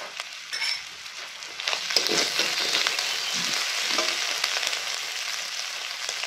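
Spices and green chillies frying in a pan over a medium gas flame, with a steady close sizzle that swells after the first couple of seconds, broken by occasional stirring scrapes.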